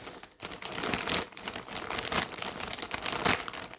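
Close, loud crinkling and rustling of a parcel's packaging being handled and pulled open, in irregular bursts with no talking.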